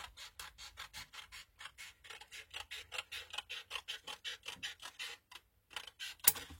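Scissors snip through paper in a steady run of quick, evenly spaced cuts, close and quiet, pausing briefly near the end.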